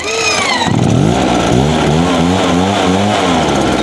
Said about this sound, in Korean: 이 상태에서 이제 초크를 위로 올리고 이렇게 해주시면 시동이 걸리는 거예요